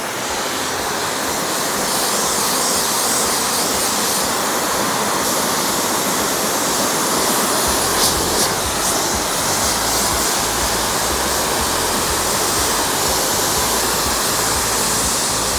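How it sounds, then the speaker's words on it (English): Pressure washer spraying a steady, loud hiss of water to rinse soap off a Holstein show cow, continuous broadband rush with no pauses and no talk. "we'll take the pressure washer and we'll rinse all the soap"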